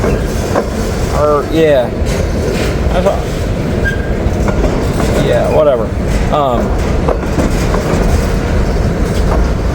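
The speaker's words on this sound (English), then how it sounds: "filming a train" A freight train with auto racks rolls past close by as a loud continuous rumble with clattering wheels and squeaks, while someone speaks briefly over it.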